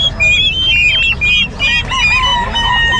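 Fowl at an open-air pet market in Bocaue, with clucks and short crowing calls rising and falling across the clip over a low, steady market rumble.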